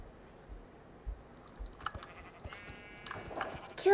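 Sheep bleats from a blocky survival video game sound over a quick patter of computer keyboard and mouse clicks, with a few brief bleating cries rising in the second half and a louder click burst at the end.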